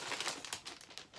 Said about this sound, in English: Sorry, I'm going to stop talking while I'm crinkling here.